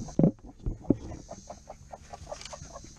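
Broody hens cluck in a coop with short, low, irregular calls close by, one or two louder squawks near the start, over a faint background hum.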